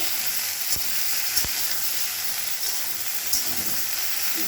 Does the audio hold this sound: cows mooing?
no